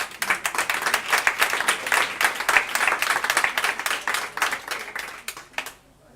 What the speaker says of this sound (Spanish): Pues nada, Javier y un aplauso para él